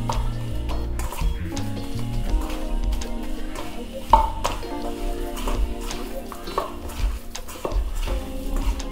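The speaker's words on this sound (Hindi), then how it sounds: "उसके बाद इन सबको अच्छे से हाथों से मिक्स कर लेंगे।" Potato stuffing mixed by hand in a bowl, with soft squelching and patting, light clinks against the bowl and scattered knocks at a close, quiet level.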